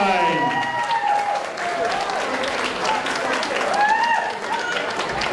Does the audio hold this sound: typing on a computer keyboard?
no